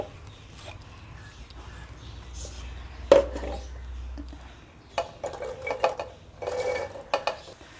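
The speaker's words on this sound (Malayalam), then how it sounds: "മാതളം ജാറിലേക്ക് ഇട്ട് കഴിഞ്ഞു" Pomegranate seeds tipped into a mixer jar for a milkshake give soft rattling clatter and a few sharp clinks and knocks against the jar, close by and fairly quiet.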